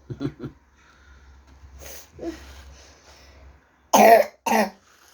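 A couple of quick coughs, then quiet breathy sounds, followed by two loud, harsh coughs close to the microphone.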